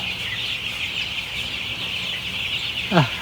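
Chickens cluck softly against a steady background drone, and one louder, falling call stands out near the end.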